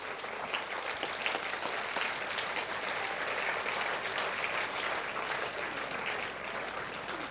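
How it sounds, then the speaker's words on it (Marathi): Students at a school's annual function applaud loudly and steadily in a large crowd, a dense clapping roar that lasts the whole stretch with no voices above it. "सगळ्या एकदा जोरदार टाळ्या वाजवा त्या विद्यार्थ्यांसाठी."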